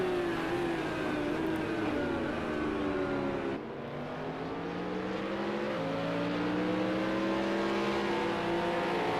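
Race cars in the Project Cars 2 video game at the GT Portugal circuit roar continuously, engines revving and shifting as several cars battle closely, loud and steady with no talking.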